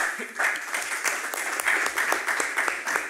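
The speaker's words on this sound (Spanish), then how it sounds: "para quien también pido fuertes aplausos." An audience at an academic conference on Quechua literature applauds, giving fairly quiet, steady clapping for a few seconds in a lecture hall.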